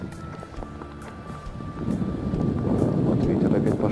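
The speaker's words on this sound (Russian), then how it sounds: "Вот ветер опять пошел." Wind picks up midway, a rising low rumble buffeting the microphone, growing louder and steadier toward the end.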